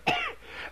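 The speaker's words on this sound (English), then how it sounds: "And cough." A man gives a single short, harsh cough right after lighting a cigarette, close and fairly soft, with a brief throaty tail and no talk around it.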